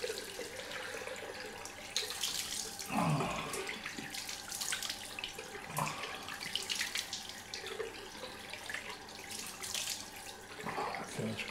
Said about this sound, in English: Let's get the cold water on the face.